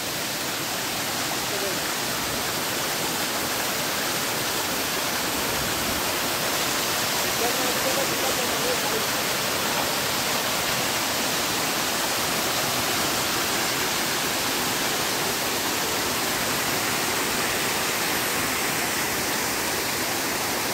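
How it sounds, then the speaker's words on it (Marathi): Water pours straight down over the edge of the hollow Pokal Kada cliff in the Konkan, a loud, unbroken roar of falling water that stays steady and close throughout. "हे सगळं पाणी इकडनं डायरेक्ट खाली जात आहे पूर्ण"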